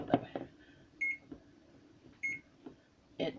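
A convection stove's control panel gives a few short, faint electronic beeps spaced about a second apart as its temperature is set to 400, amid quiet handling clicks.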